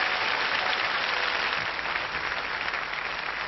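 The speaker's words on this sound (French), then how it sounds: "On applaudit très très fort ces 3 candidats." A studio audience at a theatre applauds three game-show candidates, with dense, sustained clapping holding steady and loud from start to finish, no voices rising above it.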